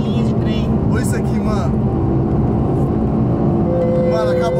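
A Porsche 911 Carrera engine drones loud and steady while driving, with a continuous roar throughout and voices talking over it.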